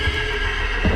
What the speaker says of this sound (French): Oh non, pas le cheval!